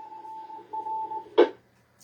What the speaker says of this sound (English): And that's the repeater ID in Morse code.